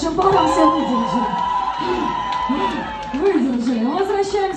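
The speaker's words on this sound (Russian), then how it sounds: "Ну ладно, ладно, аплодисменты нашим парам все выдержим." An audience at a New Year's corporate party claps and cheers for dancing couples in a loud, echoing room. Whoops and shouts rise over the crowd noise, with a person talking over the din.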